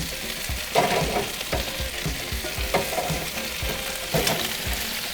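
Mini chicken wings fry in hot oil in a wok with a constant bright sizzle, broken by regular scraping and stirring strokes against the pan, close up and with no talking.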